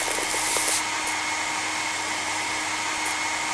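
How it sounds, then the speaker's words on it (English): A blower in a vehicle-washing game blowing dirt off an excavator, a steady loud airy whoosh with a constant hum, close and unbroken throughout. "Drag the blower along the dirt to blow it off."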